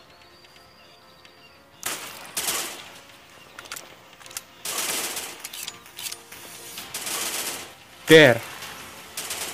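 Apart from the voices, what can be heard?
sniper rifle gunshots in a commando shooter video game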